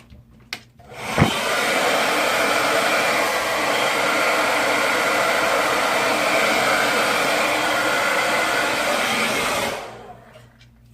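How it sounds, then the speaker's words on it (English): A handheld blow dryer runs steadily for about nine seconds, drying and sealing a glued hair weft during a quick weave install, with a loud, even whooshing roar that starts and stops cleanly and no talking. "You can take your blow dryer and blow dry the weft just to make sure it's sealed."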